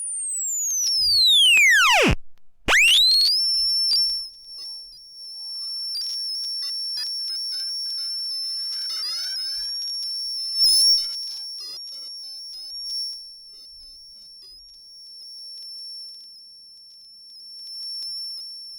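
Odd electronic tones from a Moth Hunter Mods Razcalito harsh noise effects pedal sweep and warble, with a sharp downward swoop early on, then steady high whines and flickering delayed echoes trailing off.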